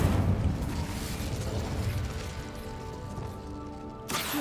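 In a Harry Potter video game, casting the Incendio fire spell produces a rushing, crackling burst of flame that tapers off with a ringing tonal tail. A sharp new burst arrives at the very end.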